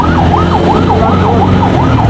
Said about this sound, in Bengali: অ্যাম্বুলেন্স।